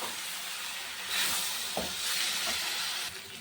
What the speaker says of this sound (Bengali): মশলা ধোয়ার বাটির জলটা দিয়ে দিলাম।